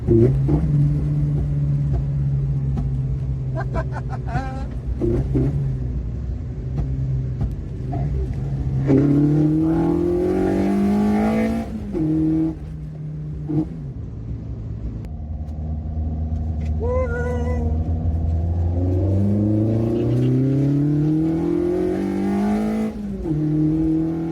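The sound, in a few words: 90s hot hatch with swapped VXR engine revving through throttle bodies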